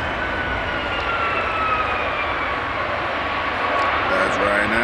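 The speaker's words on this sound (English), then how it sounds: "Ryanair's just landed." A Ryanair jet airliner at Manchester Airport just after landing, a steady broad roar of jet engine noise that fills the whole clip at high level, heard from a distance outdoors with a faint higher whine running through it.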